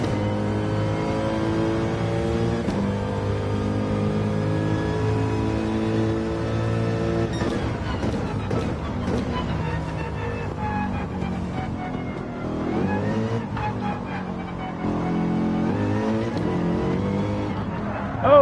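A Mercedes AMG race car engine revs in a racing video game, a sustained, moderately loud buzzing drone whose pitch climbs and falls with gear changes and throttle.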